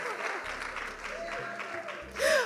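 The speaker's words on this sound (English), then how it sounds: "A round of applause for her, please." An audience at a moms conference and exhibition gives a short burst of clapping, a soft, dense patter that swells slightly at the very end.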